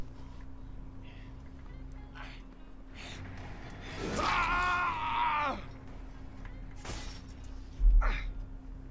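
Dead by Daylight character screaming: a strained, wavering cry of about a second and a half, moderately loud over low game ambience, followed by a faint gasp and a thump.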